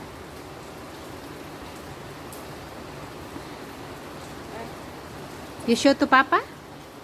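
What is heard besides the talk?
heavy rain falling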